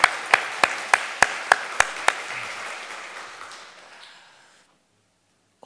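A church congregation at a Sunday worship service claps together in eight sharp, evenly spaced beats, then the room's reverberation fades into near silence.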